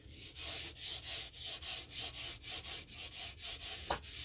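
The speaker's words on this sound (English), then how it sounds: "I might just burnish it." A wooden axe handle being burnished by hand, a steady rhythmic rubbing with about a dozen even back-and-forth strokes, close and soft, with no voices.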